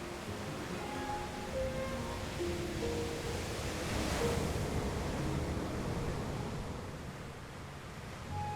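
Sea surf washes steadily onto the shore, a broad continuous roar of foaming water with a gentle swell in the middle, heard from close by with some wind.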